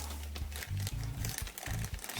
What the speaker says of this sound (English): I've taken the head unit out of the plastic bag